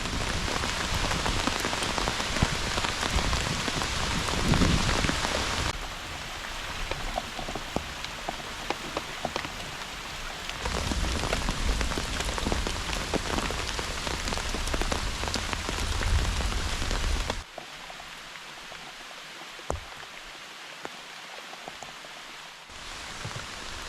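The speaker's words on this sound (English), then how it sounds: "still raining a little bit, but it's let up a whole lot" Steady rain patters densely on a tent nearby, a continuous hiss of drops that eases and thins toward the end, with no voices.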